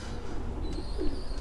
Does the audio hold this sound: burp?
no